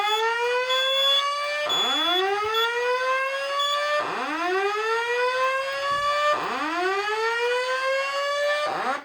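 A Simplex voice evacuation fire alarm, set off by a smoke detector, sounds a loud upward-sweeping whoop that repeats four times at a steady interval.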